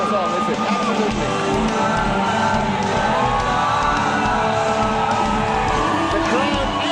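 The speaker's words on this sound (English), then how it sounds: "The crowd absolutely going nuts" A dense crowd cheers and shouts without pause during a fighter's entrance at the Aturto MMA 2.2 semi-pro flyweight event. The roar stays loud and steady throughout, with whoops rising above it.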